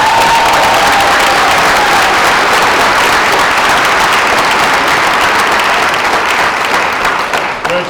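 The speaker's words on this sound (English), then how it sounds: "one huge round of applause for them" Loud, sustained applause fills a high school gym or hall as students sign national letters of intent, dense clapping with crowd noise holding steady and easing only slightly at the very end.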